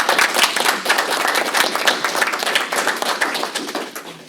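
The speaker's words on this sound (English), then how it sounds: "let's give them a round of applause." A roomful of people at a school board meeting claps in a round of applause, a dense, steady patter of hands held close and loud for several seconds without letting up.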